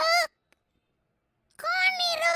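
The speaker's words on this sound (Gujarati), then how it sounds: "પક્ષી ફરીથી બોલે છે." A bird calling as a sound effect in a Sanskrit story: two loud, harmonic honking calls close up, one short and one longer, separated by about a second of silence.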